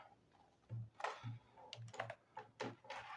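Short bursts of clacky keystrokes ring out from a MAGEGEE TS91 RGB 61-key keyboard, close and crisp, with uneven gaps between the presses and nobody speaking.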